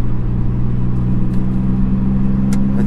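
A Corrado R32 bi-turbo with DSG gearbox revving hard, a loud, steady engine drone with strong low harmonics held throughout, close to the microphone, with no talking.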